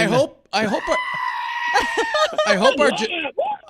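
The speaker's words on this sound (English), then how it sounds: "I love the screaming goat." A harsh, human-like screaming goat sound effect rises over excited talking on a weather broadcast and lingers as a drawn-out, wavering bleat.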